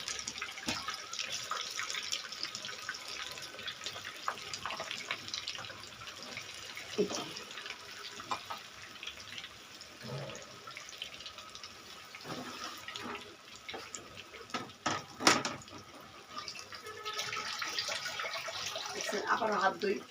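Hands are washed under a running tap in a home kitchen, a steady faint stream of water with splashes and clinks, while a person talks intermittently over it.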